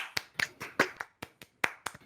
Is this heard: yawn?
no